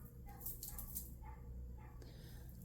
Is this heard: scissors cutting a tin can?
no